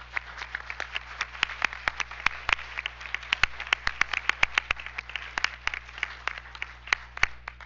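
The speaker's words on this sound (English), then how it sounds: "let's give them a round of applause" Sparse applause from a small audience at a school district board meeting, individual claps sharp and distinct in an irregular patter over a low steady room hum, continuing for several seconds without speech.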